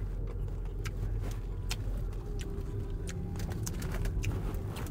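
A car eases into a parking spot in Japan, its low steady engine rumble running close and continuous throughout, with faint light clicks and a distant bird chirp over the top.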